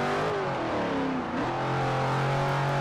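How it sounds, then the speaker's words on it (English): A car engine revs loud and close in the Forza Horizon racing game, a steady, throaty note holding under continuous roar with a brief dip in pitch midway, and no talking. "This engine sounds amazing."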